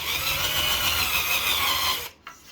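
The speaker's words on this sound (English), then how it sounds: "You just want to drill through your wood and not into the UPVC frame." A power drill whirs steadily as it bores through a wooden window frame in a brick house, a loud grinding drone that cuts off abruptly near the end.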